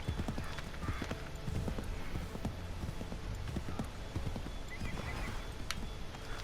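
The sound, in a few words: horse galloping and whinnying in video game Assassin's Creed III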